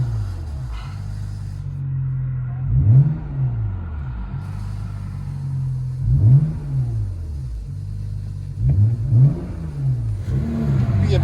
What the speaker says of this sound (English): BMW 335i. Muffler delete.